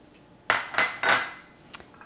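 A fork clinks against a bowl while Texas sheet cake batter is mixed by hand in a single bowl: three or four close, quick tapping scrapes in a row, then a lighter clink, with no talking.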